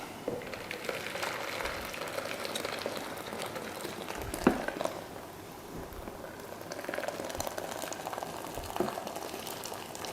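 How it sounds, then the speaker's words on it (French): Boiling water being poured into couscous broth, a continuous bubbling, gurgling liquid sound at close range with a brief louder splash midway, no talking. "l'eau est bouillante et on rajoute l'eau."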